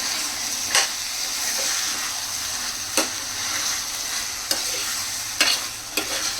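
Keema curry with fresh coriander being stirred in a pan, a steady oily sizzle with several sharp spoon scrapes and knocks at irregular intervals, close and fairly loud, no voices.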